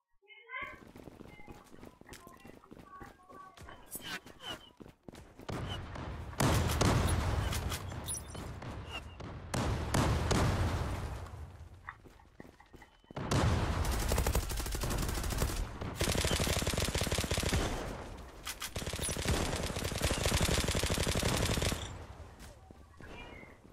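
Automatic gunfire in an online shooter game, long loud sprays of rapid shots in several bursts, with players talking over the action.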